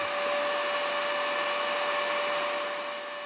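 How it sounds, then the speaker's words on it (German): A hair dryer blows steadily to warm one side of a Peltier element in a Carnot-process physics demonstration, giving a loud, constant whooshing rush with a faint whine, uninterrupted and without voices. "Die rechte Seite wird mittels eines Föhns erwärmt."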